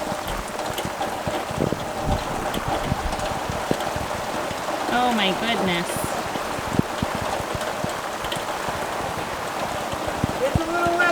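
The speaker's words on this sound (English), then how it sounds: "And it is pouring right now" Heavy rain pours steadily outside a homestead in March, a dense hiss of drops hitting surfaces with some running water, while a person briefly exclaims over it.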